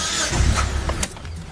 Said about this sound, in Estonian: Proovi korraks autost käima.